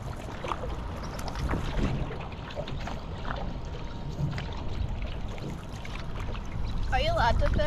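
A kayak paddle dips and splashes rhythmically on open water, with faint trickles and drips between strokes and steady wind noise throughout, while people talk nearby.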